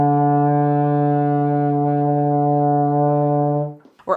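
A euphonium sustains a single steady low D played with the first and second valves, a rich, loud brass tone held for about three and a half seconds before fading out into a short breath.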